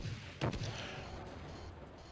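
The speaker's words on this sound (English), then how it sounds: "Now, grab your rocket launcher." A rocket launcher fires once in the classic DOOM game, a sharp low blast that trails into a rumbling explosion and fades under faint background game noise.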